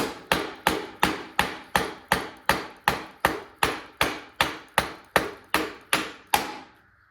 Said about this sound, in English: I just got a little rubber mallet, and then you just tap the axle out.